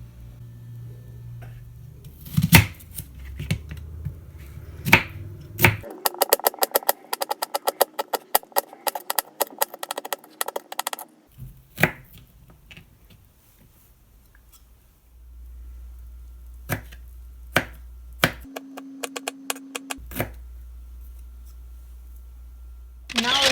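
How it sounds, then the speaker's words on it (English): Knife strikes on a cutting board as ingredients for a bean burger are chopped finely, with rapid bursts of sharp, close taps in clusters separated by pauses and background hum. "Now chop them finely."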